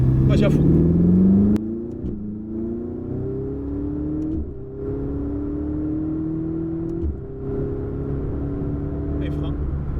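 Ferrari driven at full throttle, the engine note climbing steadily through several rising sweeps with brief dips at gear changes, loud and close from inside the car.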